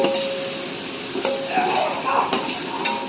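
Chopped onions sizzle in hot oil in a pot for mutton biryani as ginger garlic paste is stirred in. A loud, close, continuous crackling hiss runs throughout, with a few brief scraping stirs on top.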